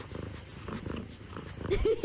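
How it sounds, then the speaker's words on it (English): A cat purrs in a loud, close, steady rumble, with a person talking over it. "The purrs are so loud."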